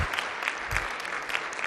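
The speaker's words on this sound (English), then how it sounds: "Let's have a round of applause for our hosts in Minneapolis" Conference audience at a closing plenary session applauding the Minneapolis hosts, a brief, steady roomful of clapping heard alone.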